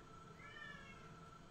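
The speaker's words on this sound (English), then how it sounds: "Oh, hello, kitty. You're back" A domestic cat meows once in a drawn-out, rising call, fairly close and moderately loud over a steady low room hum.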